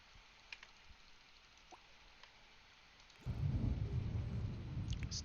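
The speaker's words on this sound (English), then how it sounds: "The thunder shook the screen." A storm brings a sudden loud rumble of thunder after a few seconds of quiet, with faint drips beforehand and the deep roar sustained to the end.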